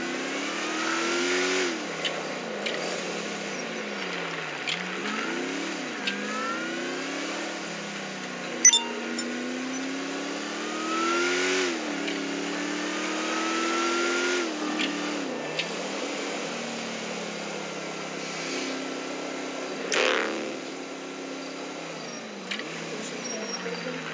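A police car pulls away with a rising engine whine that shifts gears several times, heard close and then moving off under faint background sounds.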